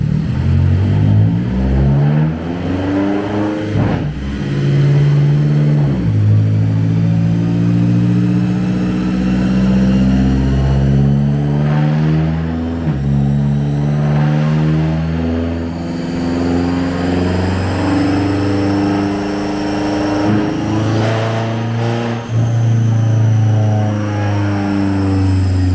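A BMW X6M strapped down on a Dynojet dyno revs hard, its engine note sweeping up and down through repeated loud pulls that fill the whole span, with no talking.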